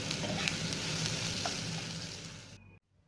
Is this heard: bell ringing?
no